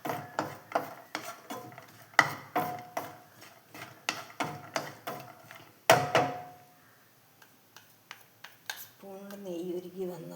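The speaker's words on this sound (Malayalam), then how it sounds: "തേങ്ങയും കൂടി ഒന്ന് വെള്ളാറുന്ന വരെ ഒന്ന് വഴറ്റിയെടുക്കുക" Grated coconut is stirred and sautéed in a pan while making nendrapazham ada, giving a close run of quick scraping clicks and taps with a faint sizzle, then a quieter stretch near the end.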